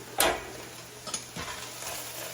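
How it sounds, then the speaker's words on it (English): Onions drop into a hot pan and begin to sizzle, with a sharp crackling burst followed by a few softer stirring scrapes over a steady hiss. "Get our onions in."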